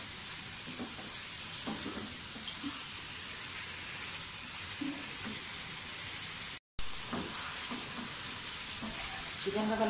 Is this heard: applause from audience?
no